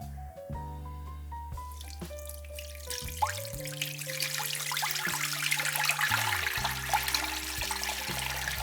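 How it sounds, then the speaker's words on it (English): Homemade rhubarb champagne poured slowly through a sieve and funnel, a thin liquid stream trickling and dripping with a rising splashy fizz, close and fairly quiet, over soft tonal background music. "I'm just going to slowly pour this through the sieve."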